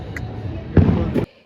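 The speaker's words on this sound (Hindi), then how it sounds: "काफ़ी सारे पटाखे जलाए" Firecrackers burst outdoors during a Makar Sankranti celebration, with two or three sharp loud cracks over a low background rumble before the sound cuts off abruptly.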